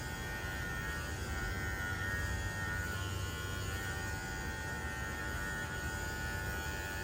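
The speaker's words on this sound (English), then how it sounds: "I'm just gonna clipper all the way down to the edge of the ear." Electric dog grooming clippers run steadily along the edge of a dog's ear, giving a continuous close buzzing hum with no pauses or talk for the whole stretch.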